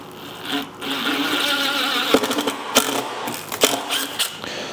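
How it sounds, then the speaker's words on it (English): Impact driver driving a machine screw in a home garage, a steady mechanical whir broken by a few sharp rattling impact bursts, loud and close. "now we're going to try driving in one of these machine screws with our impact driver"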